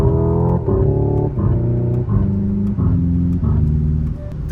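A Hyundai electric car plays its synthetic engine sound, loud and close, with stepped tones climbing in pitch and dropping at each simulated gear change, about five shifts in a row.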